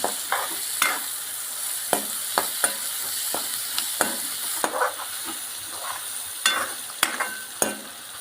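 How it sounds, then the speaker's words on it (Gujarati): Chopped onion sizzles steadily in hot oil for a village-style stuffed bitter gourd (karela) curry, with a spoon scraping and knocking against the pan in irregular strokes, close and clear, with no talking. "હવે નાખશું ડુંગળી હલાવતા રહીએ ને"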